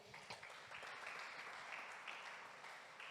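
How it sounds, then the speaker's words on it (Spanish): Church congregation clapping loudly during a Spanish-language sermon, a continuous, even roar of many hands heard from a distance. "Vamos a dar un aplauso fuerte"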